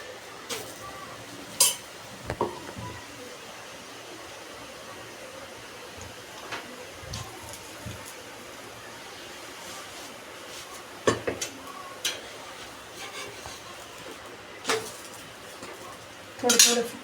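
Sabudana paratha being turned in a pan: quiet background hiss broken by a few sharp spatula and pan clinks, metallic scrapes and knocks spaced irregularly, close and fairly soft.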